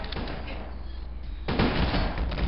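Gunfire in the video game GoldenEye: Source: dense rapid shots over noisy game sound, thickening into a louder, sustained burst of firing partway through.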